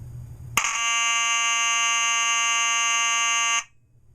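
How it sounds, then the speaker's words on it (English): A Simplex fire alarm horn blares continuously at close range, starting abruptly and holding a loud, steady buzzing tone for about three seconds before cutting off. "Now I'll go ahead and hook up the fire alarm."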